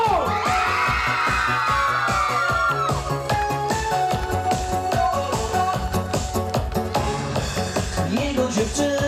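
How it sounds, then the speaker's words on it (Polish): Girls in the crowd at an outdoor Polish village concert in Leniewo scream loudly over a pounding live band, with high shrieks swelling above the music at the start and then blending into the cheering. "I wszystkie dziewczyny piszczą!"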